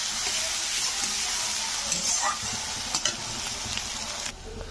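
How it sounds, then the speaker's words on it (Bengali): Onion fries in a pan until reddish, giving a steady close sizzle with occasional stirring scrapes and clinks, before the hiss drops off near the end. "তো এবারে পেঁয়াজটাকে আমি একটু লাল করে ভেজে নেব"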